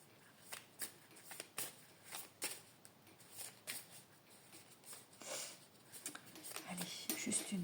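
Oracle cards of an emotional-nuances deck are shuffled by hand for a tarot-style reading, giving a close series of crisp papery riffles and slaps in irregular bursts, with a faint voice briefly murmuring underneath.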